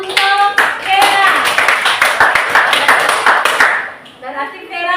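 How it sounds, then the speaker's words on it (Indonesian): Classmates clap for a student named Vera in a classroom lesson, a few seconds of close, uneven hand claps mixed with a voice speaking, then tapering off as speech resumes. "Kita kasih tepuk tangan untuk Vera"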